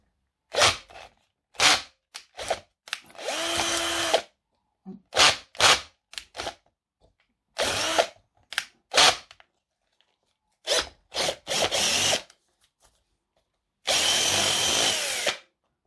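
A power drill whirs in repeated short bursts with silent pauses between, each run loud and close, the motor revving up and stopping, drilling out a light socket on a Tamiya King Hauler model truck trailer.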